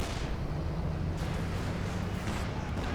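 Mortar pit fire in a Company of Heroes 2 match, a dense continuous barrage of booming artillery blasts and rumbling explosions, loud and close, filling the whole stretch.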